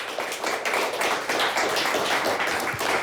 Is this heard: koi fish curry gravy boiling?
no